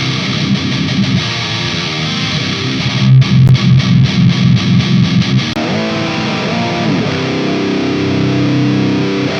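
Heavily distorted electric guitar plays continuously, with a burst of rapid, chugging palm-muted strums in the middle before settling into sustained ringing chords.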